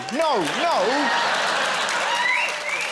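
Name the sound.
audience cheering and applauding at stand-up comedy show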